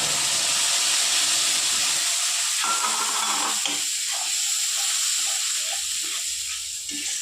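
A paste of onion, ginger, garlic and green chili hits hot oil with a loud hissing, steamy sizzle that gradually softens, joined by stirring scrapes and clatter, close by with no talking.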